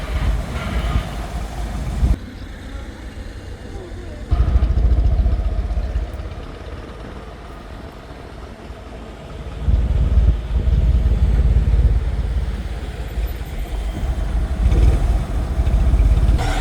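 A Fiat 500 on a ride through Modica, Sicily, its small engine chugging and revving in uneven surges as the car pulls away and cruises, close and moderately loud, with no talking.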